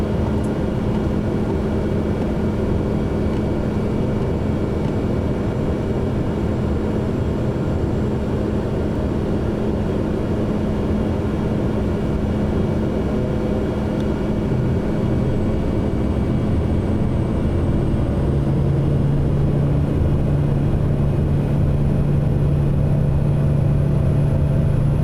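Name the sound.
SWS PC-12 takeoff roll in video game MSFS 2024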